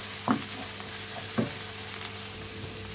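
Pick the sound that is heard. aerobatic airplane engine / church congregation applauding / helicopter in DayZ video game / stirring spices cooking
stirring spices cooking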